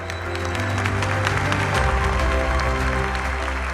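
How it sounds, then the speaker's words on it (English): Dense, sustained applause from a large standing conference audience at a gathering of emissaries, continuous and full over low music-like hum. "A round of applause for the whole world."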